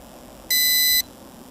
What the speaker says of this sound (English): And we got another beep from the transmitter.